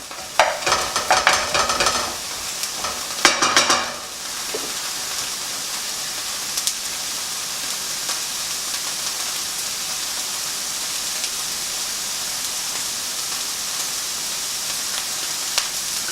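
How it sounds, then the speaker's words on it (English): Onions sautéing for a fish curry, with a couple of seconds of busy stirring and scraping up front, then a steady even sizzle that carries on alone. "we're going to add the onions. going to saute them off"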